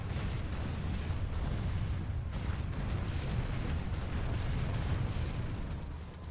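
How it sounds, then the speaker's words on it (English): Dense, continuous combat din from the online shooter Planetside 2, with booming, rumbling gunfire and explosions blending into a loud, unbroken wash that barely eases over several seconds. "Oh, they're shooting me now."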